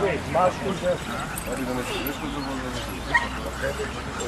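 Small Macedonian Karaman shepherd puppies, three to six months old, yip and whimper close by at a dog show, with short high barks mixed among people talking over them.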